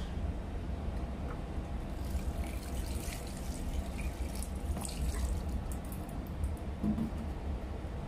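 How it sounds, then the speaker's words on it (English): Water is poured onto seeds planted in sand, a faint continuous trickle and splash with a few soft drips, close by and alone with no talk. "Here you can put the water."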